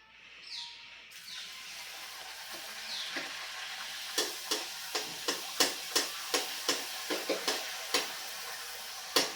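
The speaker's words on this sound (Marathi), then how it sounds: "आता आपण एक एक पुरी तळायला घेऊयात तेल इथे गरम केलेलं आहे" Spicy wheat-flour puri frying in hot oil: a steady sizzle close by, punctuated by a regular series of sharp taps and flicks as the puri is pressed and turned, with no talking.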